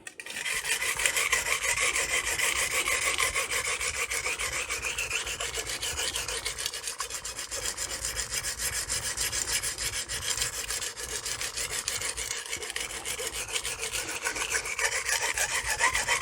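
A Magnacut steel 8-inch chef's knife grinds across a fine Crystolon silicon carbide sharpening stone, a steady gritty rasping of rapid, even strokes that continues nonstop and fairly close.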